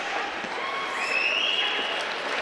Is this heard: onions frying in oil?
no